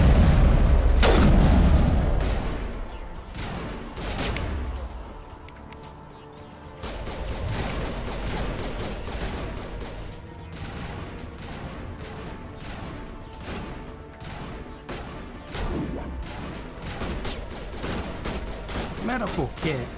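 Gunfire in the video game Mass Effect rattles almost continuously, with dense bursts of rapid shots and heavy booming impacts at varying distances, loud and layered over the game's ambient backdrop.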